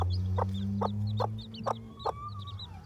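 A mother hen clucks softly over her chicks, about six short, evenly spaced clucks close by with a faint higher chick peep between them, no voices.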